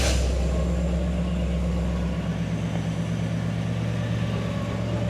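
A 1963 Chevrolet Impala SS convertible with a 409 cubic inch, 6.7 liter V8 and three-speed automatic runs steadily and close, its deep, loud rumble shifting slightly in tone partway through and continuing without voices.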